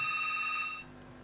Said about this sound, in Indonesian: Ini ada yang telepon ini